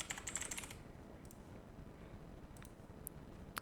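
A quick, quiet burst of typing on a computer keyboard, followed by a few isolated key taps against a soft room hiss.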